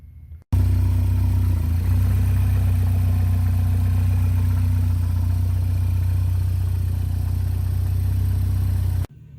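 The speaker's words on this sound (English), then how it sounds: "what you just saw was a test fire up with all these heat shields off and the catalytic converter hooked up loosely" A Mini Cooper S R56 turbo engine runs on a test start with heat shields off and the catalytic converter loosely fitted, idling loud and steady with a deep hum before cutting off abruptly.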